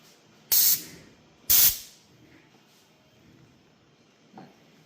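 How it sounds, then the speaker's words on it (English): Compressed air from an air compressor blasts debris out of a Steris Medivators tabletop unit in two loud, close hissing bursts about a second apart, followed by quiet and a faint small blip. "Just blow shit out. Good air compressor."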